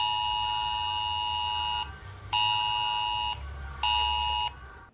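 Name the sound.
Catalonia civil protection emergency alarm on phones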